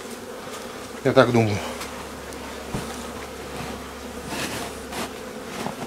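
Honeybees around hive boxes buzz close by in a brief loud burst, then a softer insect drone continues under a few quiet spoken words.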